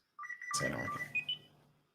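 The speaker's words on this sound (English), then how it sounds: "that's the other one they used for a door chime in later seasons." A short electronic chime plays a few bright, clean tones in quick succession, quiet and alone, with a soft fading tail.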